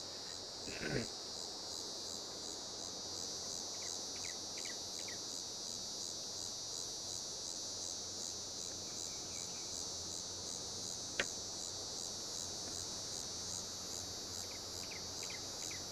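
Constant high, shrill cicada buzzing in a PC video game fills the scene, steady and droning, with a couple of faint clicks underneath.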